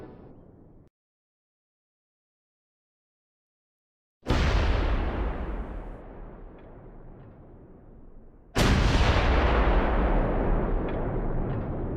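Gunfire and explosions aimed at a German Sd.Kfz. 251/16 Flammenwerfer half-track in the Close Combat 4 game, with two loud booming blasts separated by silence, each decaying into a long rumbling tail.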